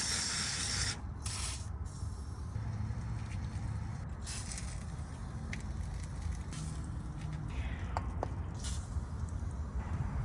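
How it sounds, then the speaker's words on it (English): WD-40 sprayed onto the torsion bars of a Chevrolet Tahoe, several short hissing spray bursts over a steady background rush, close and without speech. "I'll go ahead and add some WD-40 to the torsion bars in the front and rear."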